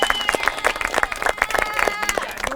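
An audience at a 2023 conference claps in a burst of quick, lively applause, close and moderately loud, with a voice heard over part of it.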